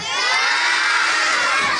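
Loud, dense shouting and cheering from a group of children at a storytelling roadshow, a sustained high-pitched roar for nearly two seconds with no talk over it.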